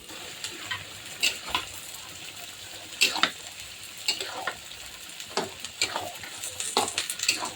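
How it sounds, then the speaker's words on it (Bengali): Vegetables hit hot oil in a Bengali kitchen tempering, giving a steady close sizzle with crackling pops and occasional stirring scrapes, no talk. "সবজি বাগার দিয়ে দিলাম"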